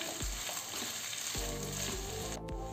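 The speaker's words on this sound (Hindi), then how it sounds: "इन्हें हमें हाफ कुक करना है, इन्हें स्टिर फ्राई कर लेंगे हम।" Carrots and capsicum sizzle steadily in a hot pan during stir-frying, with a few sharp knocks of a spatula against the pan over the constant frying hiss.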